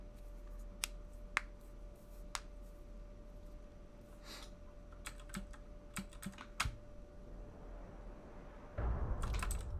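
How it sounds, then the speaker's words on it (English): Computer keyboard keys are pressed during a Rain World speedrun stream, heard as sparse, scattered clicks and taps close to the microphone over a low steady hum, quiet overall, ending in a brief louder rush of noise with no talking. "you're going to be hearing my keyboard in its full glory"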